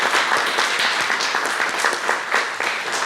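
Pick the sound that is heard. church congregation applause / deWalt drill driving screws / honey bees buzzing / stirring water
church congregation applause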